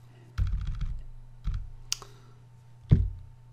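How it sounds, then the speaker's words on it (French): Someone types localhost on a computer keyboard in a quiet room. A few sparse clusters of crisp keystroke clicks are separated by pauses, over a low steady hum. "Il faut taper localhost"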